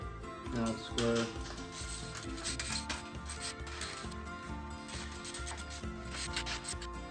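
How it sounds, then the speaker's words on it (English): Bolts on a Mockins high rail hitch cargo carrier being tightened with a wrench, giving a steady rubbing, ratcheting scrape that runs continuously at close range. "So we're going to tighten up all these bolts"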